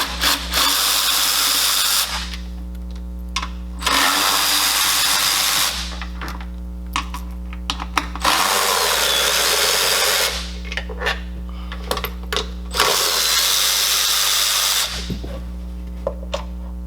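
A power tool works on removing the carburetor from a Kawasaki 750 SS jet ski, with loud, close whirring bursts of about two seconds that start and stop repeatedly over a steady low hum, with no talking.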